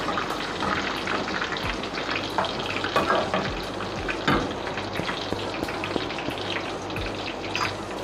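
Curry leaves and cumin sizzle and crackle in hot oil while kadhi is being made, a steady frying hiss with scattered pops and a few sharp stirring knocks, close and fairly loud, with no talking.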